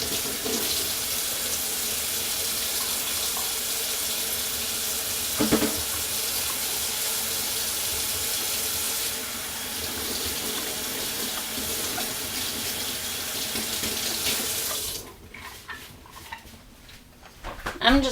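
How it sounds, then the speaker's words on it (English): Tap water runs steadily into a sink as hands are washed under it, a loud continuous rush that softens briefly partway through, then stops, leaving a few faint handling noises at the end. "Let me wash my hands."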